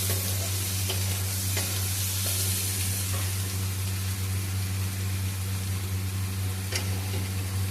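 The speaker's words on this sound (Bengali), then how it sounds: "আলুটার সাথে রসুনটাকেও ভালো করে একটু নাড়াচাড়া করে ভেজে নিতে হবে।" Potatoes and garlic frying in a pan while being stirred, a continuous close sizzle with a low steady hum beneath and occasional light spoon scrapes.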